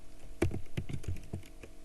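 Quick, close clicking of keys on a computer keyboard as a spreadsheet formula is typed, about a dozen soft taps in an uneven rhythm.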